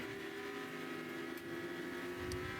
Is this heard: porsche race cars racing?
yes